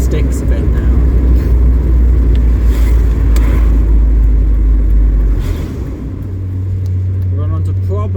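A Mazda MX-5 drives a quiet country lane near St Helens, its engine a steady loud rumble with road noise throughout that dips briefly and then settles into a higher drone, with a voice faintly heard over it.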